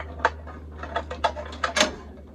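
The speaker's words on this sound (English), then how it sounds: "you just have to take out these 9/16 hex cap screws" 9/16 hex cap screws come out of a Farmall Super C tractor with quick metallic ratcheting clicks in short irregular bursts over a low steady hum, close and fairly quiet.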